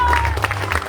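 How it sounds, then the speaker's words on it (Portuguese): Brief applause at a church baptism, a short burst of clapping under a faint voice and a low hum. "Salva de palmas."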